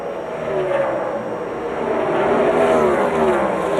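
A NASCAR race car engine running rough during a 2005 road-course race, a steady loud drone that swells slightly over time, heard alone without talk.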